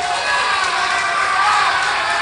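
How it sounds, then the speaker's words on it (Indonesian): A debate audience for regency head and deputy candidates in Lampung gives sustained, steady applause and crowd noise for two candidate pairs, with cheering mixed into the dense clapping. "Boleh kita berikan tepuk tangan kepada kedua paslon."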